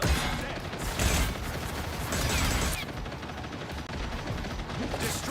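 A Punisher turret in the video game Marvel Rivals fires a sustained rapid stream of gunfire, dense and loud, mixed with game effects and crashes over several seconds.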